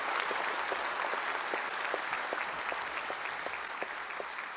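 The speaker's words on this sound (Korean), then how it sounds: "경축 공연 해주신 여러분께 뜨거운 박수 부탁드립니다" A crowd at a Liberation Day ceremony applauds warmly after a celebratory stage performance, steady dense clapping throughout.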